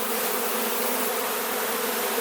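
Honeybees swarm around an open beehive, making a thick, continuous buzzing hum that stays close and even throughout, with no talk.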